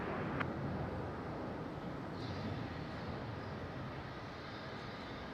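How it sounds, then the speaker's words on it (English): An airliner rolls for takeoff from runway 16 at Melbourne Airport, a steady broad engine roar that holds evenly throughout, fairly distant with no voices. "Runway 16, clear for immediate takeoff."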